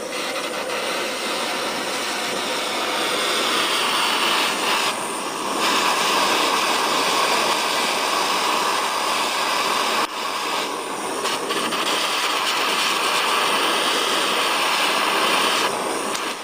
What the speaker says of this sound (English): give it a blast with the old burner